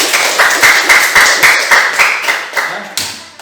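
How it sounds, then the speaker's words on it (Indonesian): Students in a physical education class clap in unison, a loud rhythmic series of about a dozen sharp group claps close by, tapering off at the end with a faint voice. "Tepuk tangan dulu kalian semua."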